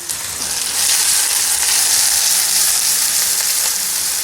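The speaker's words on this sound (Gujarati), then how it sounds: "મીડિયમ સાઇઝની ડુંગળી સમારેલી છે એ પણ કડાઈમાં ઉમેરી દેશું।" Chopped medium onion dropped into a kadai of hot oil with crushed garlic, a loud, steady sizzle that jumps up after the first second and keeps hissing evenly.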